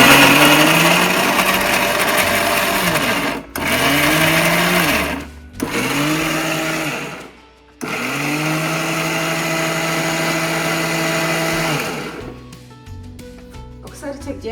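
A mixer grinder whirs loudly while grinding garlic in several bursts, each winding up and coasting down with short pauses between, then stopping; a voice speaks faintly near the end.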